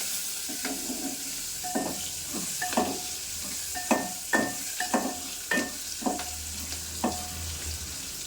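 Green chillies frying in a pan for a fenugreek tomato dal, a steady sizzle punctuated by about a dozen evenly spaced scrapes of a spoon stirring, close and fairly quiet with no talking.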